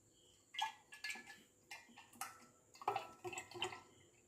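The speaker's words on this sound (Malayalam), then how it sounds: "ഇനി നമുക്കിതിനെ ഒരു ബോട്ടിലോട്ടേക്ക് ഒഴിക്കാം." Homemade fruit squash poured and trickling into a bottle, heard as quiet liquid splashes with a few small glassy knocks and clinks from nearby, no voice.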